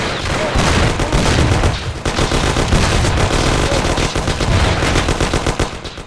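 Dense automatic gunfire and overlapping shots erupt during an ambushed deal in the video game Mafia. The bursts are loud, continuous and nearly constant for the whole stretch, with no clear voices.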